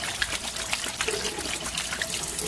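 Water runs steadily from a tap or into a container while a chick waterer is being changed, a continuous close splashing trickle with no talking.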